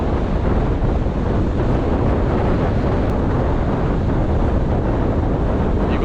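Strong storm wind roaring at a beach on Trearddur Bay, Anglesey, buffeting the microphone in a loud, unbroken rush with surf underneath for the whole stretch.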